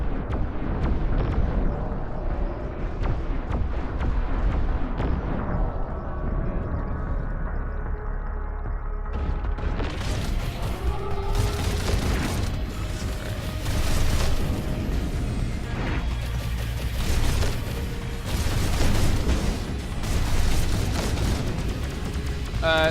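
Time bomb explosions in the video game Overload, heavy rumbling blasts layered over dense, continuous game noise with repeated booming bursts throughout.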